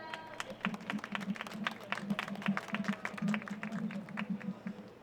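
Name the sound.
audience applause for a speaker coming on stage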